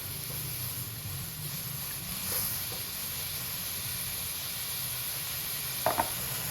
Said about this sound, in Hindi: देखें गोश्त उबल गया